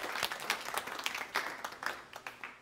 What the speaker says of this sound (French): une fois que j'ai terminé, je m'applaudis